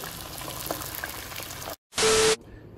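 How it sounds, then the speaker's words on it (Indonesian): Kung pao catfish cooking: a steady, soft sizzle and crackle of frying goes on, then a short gap and a loud, brief whoosh of hissing burst before it settles back. "Dengar bunyi masak."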